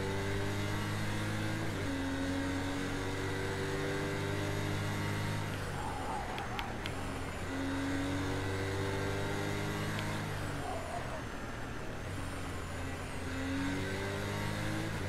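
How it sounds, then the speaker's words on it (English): A turbocharged car in a racing video game revs and drones continuously, engine harmonics stepping up and down with gear changes and a thin high whir riding on top, loud and steady, no talk. "The turbo whir in this car is insane."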